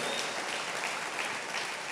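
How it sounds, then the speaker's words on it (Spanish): Congregation applauding during a Sunday church service, a steady, dense wash of clapping from many hands that fills the whole stretch at an even level with no talk over it. "denle un aplauso fuerte al Rey de la Gloria"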